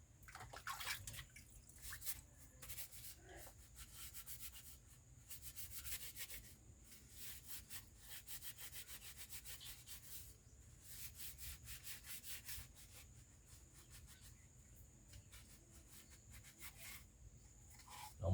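Moldy bamboo being scrubbed and washed, with repeated close rubbing and scraping strokes in quick bursts, a faint water wash underneath and no voices.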